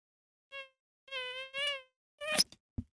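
A person imitates a mosquito with their voice, making a few short, high, buzzing hums in separate bursts, followed by a brief scuffle of noise.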